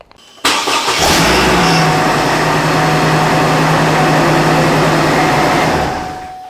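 A Hummer H3 engine cranks and catches after a starter replacement, then settles into a loud, steady idle close by that runs evenly for several seconds before cutting off.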